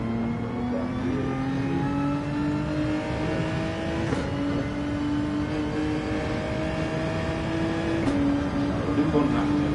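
Race car engine held at full throttle in an AXR GT World Endurance racing game, a steady high-revving drone with a faint upward climb in pitch and two brief shifts, continuous and close throughout.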